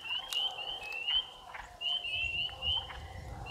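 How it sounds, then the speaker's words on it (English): Frogs calling from the water in Frontenac Provincial Park, a faint, steady, high-pitched trilling chorus with repeated rising bursts over quiet outdoor background. "frogs moving in the water."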